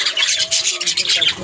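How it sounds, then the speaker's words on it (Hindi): Parrots squawk in an aviary with shrill, overlapping high calls that repeat throughout, fairly close, while a voice talks faintly underneath. "और आगे आ जाते हैं जी तोते।"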